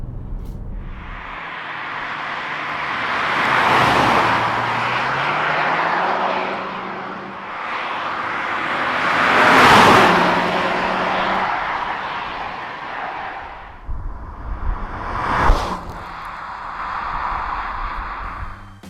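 A Kia Stinger GT V6 drives past twice, its engine swelling from distant to loud and fading away each time, before a short sharper burst of revving near the end.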